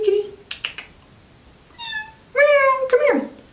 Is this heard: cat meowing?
yes